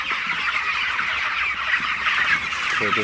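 Broiler chickens in a littered poultry shed, a dense flock on their 28th day drinking water in the morning, cluck and chatter continuously at close range with no pauses.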